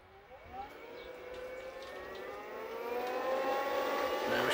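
An Aquastrong 3 HP programmable pool pump motor spins up toward 3,000 RPM, giving a faint whine that climbs steadily in pitch and grows slowly louder over a few seconds.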